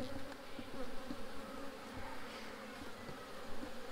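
Honey bees buzz steadily inside an open hive during an inspection, a dense continuous drone close at hand with no voices.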